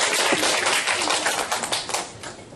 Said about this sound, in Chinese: 所以我们就以最热烈的掌声来欢迎我们许文化老师